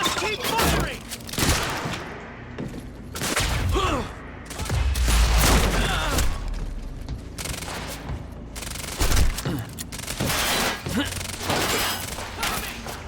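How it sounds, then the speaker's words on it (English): Sustained gunfire fills a Quantum Break firefight: dense overlapping bursts and single shots with heavy thuds and booms, loud and close throughout, while shouted voices break through the shooting. "Keep shooting! Just keep firing!"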